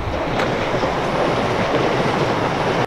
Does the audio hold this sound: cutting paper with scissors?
no